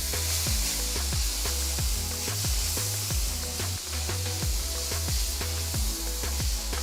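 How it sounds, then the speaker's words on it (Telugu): Chopped green chillies and medium tomatoes fry with browned onions in a pan, a steady loud sizzle broken by repeated rhythmic scraping strokes of stirring. "ఉల్లిపాయలు రంగు మారిన తర్వాత చిన్నగా తరిగిన రెండు పచ్చిమిరపకాయలు చిన్నగా తరిగిన రెండు మీడియం సైజ్ టొమాటోలు వేసి బాగా వేయించాలి"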